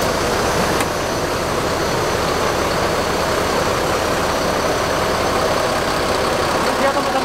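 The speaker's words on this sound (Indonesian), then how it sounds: "Ini dia teman-teman mesinnya." A new Mercedes-Benz OH 1626 Jetbus diesel engine idles steadily nearby with a constant low rumble and rattle, loud and unchanging throughout.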